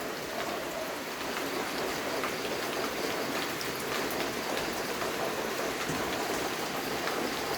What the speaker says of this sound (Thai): มันจะเริ่มแรงขึ้นแรงขึ้นแล้วเสียงฝน